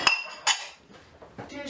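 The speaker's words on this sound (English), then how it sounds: "So we gotta put our pans away." Metal pans clink and clatter as they are put away after dishwashing in a home kitchen, two bright sharp hits followed by softer knocks, close and with no clear talking.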